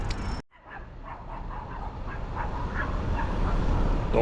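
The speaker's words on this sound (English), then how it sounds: "Dogs are like 600 feet away and they're loud." Dogs bark about 600 feet away outdoors, a faint run of repeated distant barks beneath steady broadband background noise after a brief dropout at the start.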